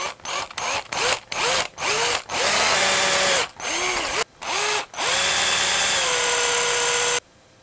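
A power drill bores holes into a wooden swimbait body, close and loud, in a string of short revving bursts followed by longer sustained runs before cutting off abruptly.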